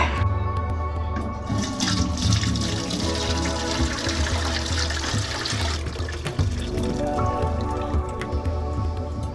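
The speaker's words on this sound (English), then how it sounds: "I'm just gonna let that drip for five minutes or so" Beef pho broth trickles and drips through a strainer in a continuous, close, wet patter of falling liquid that runs unbroken for several seconds, with no speech.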